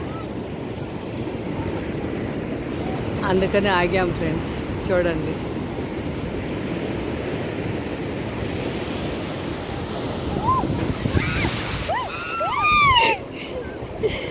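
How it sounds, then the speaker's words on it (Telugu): Big ocean waves crash and surge onto a beach in a steady broadband roar, with wind on the microphone and people talking over it throughout. "చాలా పెద్ద అలలు కొడుతున్నాయి"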